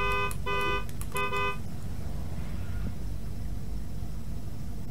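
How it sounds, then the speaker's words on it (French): Car horn honking in the racing video game Forza Horizon 3, three short loud toots in quick succession at the start, followed by steady engine and road hum with no speech. "J'ai klaxonné."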